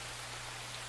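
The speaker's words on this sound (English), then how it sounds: "I listen to rain sounds to relax," Rain falls in a steady, even hiss with a low constant hum underneath, brief and uninterrupted.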